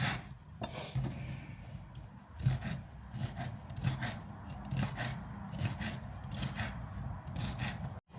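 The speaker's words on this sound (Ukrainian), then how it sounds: "Тепер нарізаємо перець болгарський." A knife cuts bell pepper into pieces on a board for a salad. Soft, repeated chopping thuds and scraping rasps come at an irregular rhythm, close and fairly quiet, with no talking.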